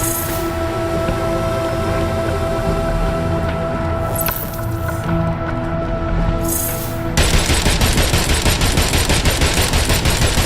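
Gunfire in the video game Agents of Mayhem: a continuous loud fusillade over a droning game soundtrack, then a sudden switch to rapid machine-gun bursts, close and dense.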